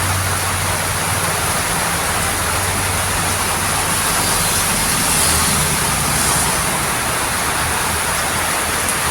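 Heavy, unbroken rainfall over farmland after a long heat spell, a loud broadband roar that swells slightly midway and stays steady without any voices.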